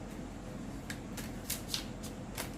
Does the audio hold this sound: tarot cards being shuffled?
yes